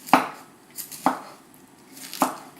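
A knife chops broccoli into bite-sized pieces on a cutting board, three sharp, evenly spaced thuds, close and clear, with no talking.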